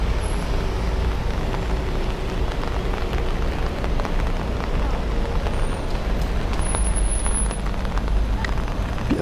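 Steady rain falls on city streets in central Tirana, a dense, even hiss of drops on hard surfaces that continues unbroken from start to finish, with no distinct voices above it.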